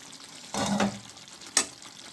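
Brinjal fry cooking in a pan over a medium flame, with two short bursts of sizzling and stirring, the first longer and the second a brief sharp crackle, against a quiet background.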